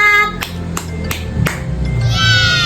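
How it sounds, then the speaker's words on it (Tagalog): Hands clap sharply four times in a quick, slightly uneven rhythm, close and loud, over a faint background hum with a brief tonal ring at the end. "Palakpak!"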